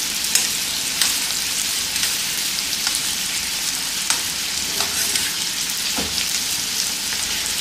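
Butter melts and sizzles in a frying pan with shrimp, a steady close crackle broken by occasional sharper pops, with no one talking.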